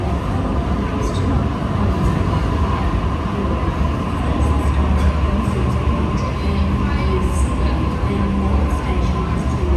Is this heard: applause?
no